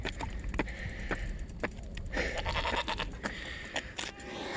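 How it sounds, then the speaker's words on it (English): An older goat bleats a few times outdoors, short wavering calls breaking over a soft background of rustle and low noise, moderately close. "This one sounds like more of a goat."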